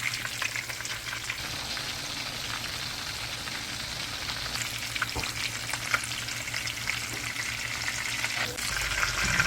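Chapli kababs fry in hot oil with a steady, dense sizzle and crackle lasting throughout, close and fairly loud, with a low hum underneath and scattered pops.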